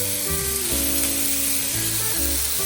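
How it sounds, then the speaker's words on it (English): Bacon sizzles on a Blackstone 22-inch griddle over low heat with a steady, close crackling hiss. A low hum runs underneath, and no one speaks. "So I have a little bit of bacon on there."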